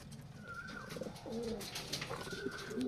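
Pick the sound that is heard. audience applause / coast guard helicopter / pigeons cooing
pigeons cooing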